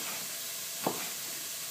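Onions fry in a pan with a steady, soft sizzling hiss throughout, broken by one brief stirring scrape midway; quiet and without voices.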